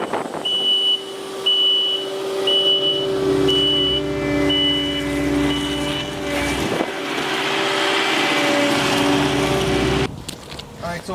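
A Kubota skid loader relocating snow runs its engine steadily and loud up close, with a repeating reversing beep on and off, before the sound cuts off abruptly near the end.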